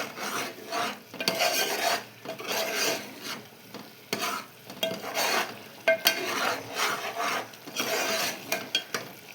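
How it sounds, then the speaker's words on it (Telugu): A spoon scrapes and stirs through a thick tomato curry as coriander powder is mixed in, repeated close rasping strokes with soft sizzling between them. "అలాగే 1 టేబుల్ స్పూన్ ధనియా పౌడర్ కూడా యాడ్ చేసుకున్నాం. వేసుకొని ఒకసారి బాగా కలుపుకోవాలి."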